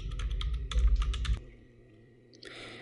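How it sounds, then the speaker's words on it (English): Quick keystrokes clatter on a computer keyboard up close, a fast burst of clicks for over a second, then quiet before a faint few taps at the end. "let's type your second text"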